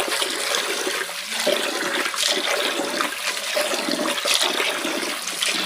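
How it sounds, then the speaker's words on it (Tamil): Raw ration rice is washed by hand in water for sweet pongal, giving a steady, close churning and swishing of water and grains with soft splashes throughout. "கையை விட்டு நல்லா அரிசியை நல்லா ப்ரெஸ் பண்ணி கழுவணும்"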